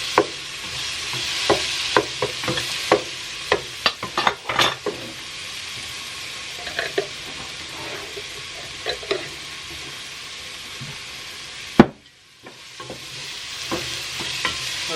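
Garlic sizzling in a pot for a bean and chickpea soup, with repeated clattering stirs and scrapes over a steady frying hiss, a brief pause near the end before the sizzle resumes.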